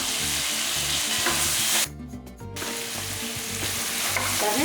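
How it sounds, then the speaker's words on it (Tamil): Brinjal and drumstick pieces sauté in a pan for a Tamil dry fish kuzhambu, giving a steady close sizzle with scraping stirs. A brief dropout near the middle is followed by the sizzle returning at full strength. "இந்த அளவுக்கு கத்திரிக்காய் முருங்கைக்காய் எல்லாமே நல்லா வதங்கிக்கிட்டு இருக்கு"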